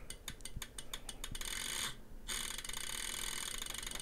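Relays in an electronic device click rapidly as they are pulsed, a fast ratcheting run like a spinning prize wheel that blurs into continuous whirring, with a brief pause midway, close and steady.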